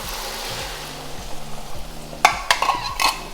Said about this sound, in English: So now let's get our egg cooked up.